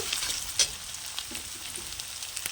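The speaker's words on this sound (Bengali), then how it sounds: "লঙ্কা গুঁড়ো দেব হলুদ গুঁড়ো দিয়ে ভালো করে কষিয়ে নেব" Chili powder and turmeric fry in a pan for a tadka, a soft, fairly quiet sizzle with a few light stirring scrapes and one brief sharper clink.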